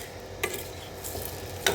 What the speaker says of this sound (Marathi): हे सगळं मिक्स करून घ्यायचं.